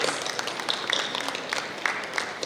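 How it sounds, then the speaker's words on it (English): Soft, diffuse applause from a healthcare conference audience welcoming a panel speaker, a continuous wash of distant clapping with faint high tones over it. "Sharma with a round of applause?"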